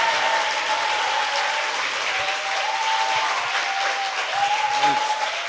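Steady, loud applause from a studio audience on a Korean talk show fills the whole stretch without letting up, and a few faint voices are heard under it.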